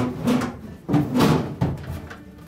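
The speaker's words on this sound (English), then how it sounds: "we're going to remove both of the crisper drawers" Crisper drawers are slid out of a Frigidaire refrigerator, giving three scraping, sliding plastic pulls with soft knocks. They are fairly loud and close, with short pauses between them.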